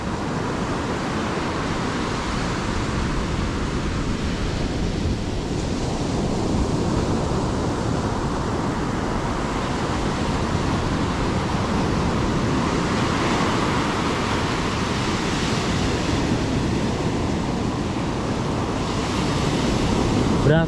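Ocean surf crashes and rolls steadily onto Bakung Beach in Pacitan, a broad continuous wash of breaking waves with wind buffeting the microphone throughout, no voices present.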